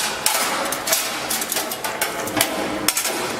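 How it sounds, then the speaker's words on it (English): Metal clanks and knocks as the grate is lifted out of a Zeco Pro 3 machine, several sharp close hits over a steady mechanical hum, no speech. "the best way on this kind of style is just to lift the grate"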